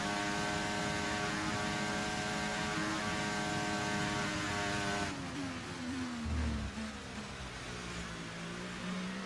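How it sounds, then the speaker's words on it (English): Race car engine in the F1 24 video game, a steady loud tonal drone that shifts pitch partway through, dropping and then settling, alone without talk. "Is it just me or does this car, this engine doesn't sound that healthy to me?"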